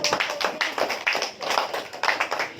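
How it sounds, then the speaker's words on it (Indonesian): Applause from an audience in a university classroom during an economics teaching session: dense, steady clapping for a couple of seconds with rippling bursts, fairly close and with no voices over it. "berikan aplaus buat"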